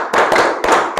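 A classroom of students claps in unison, several sharp group claps in a quick counted pattern, loud and close with no talking over them.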